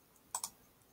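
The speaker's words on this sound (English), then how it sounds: "I believe if I click this button" Two quick, close mouse clicks on a computer button, crisp and sharp, a short pause apart in an otherwise quiet room.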